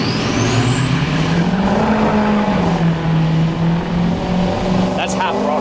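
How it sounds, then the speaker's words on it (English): A 1200-horsepower 6.0L Powerstroke diesel truck pulls at half throttle with its tires spinning, a loud, sustained engine roar that climbs and wavers in pitch under a high whining squeal, close by and continuous. "I'm gonna do about half throttle, just so we can let the transmission go"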